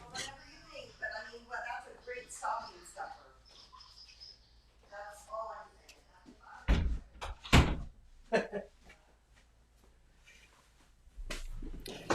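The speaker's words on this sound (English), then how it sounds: "I'm going to go shut my door." A door is pushed shut indoors with a couple of loud thuds partway through, heard between stretches of someone talking, with faint bird chirps in the background.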